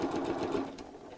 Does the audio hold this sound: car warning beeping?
no